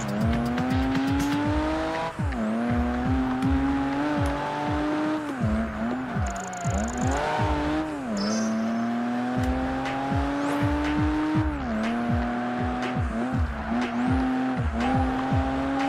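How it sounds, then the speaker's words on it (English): A Ford GT90 concept car in the racing game Project Gotham Racing 3, its engine droning and rising through gears with repeated shifts, tire squeals and skids as it corners, loud and continuous with no talking. "I am in fact driving a GT90"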